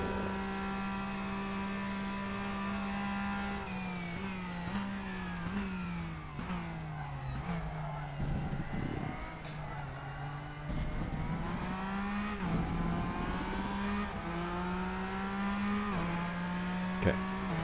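A Porsche race car in RaceRoom, engine note droning steadily and climbing and dropping through shifts and revs for the whole stretch, fairly quiet, heard from the cockpit with no talking.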